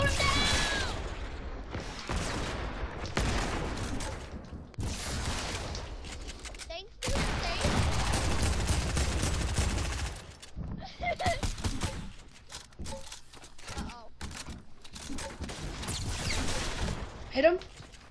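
Rapid bursts of video game gunfire crackle through a frantic shootout, loud and close, with several rattling volleys and short pauses while players shout over the action.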